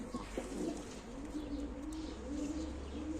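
Black tumbler pigeons cooing, a soft low repeated coo that holds steadily under a faint background hum.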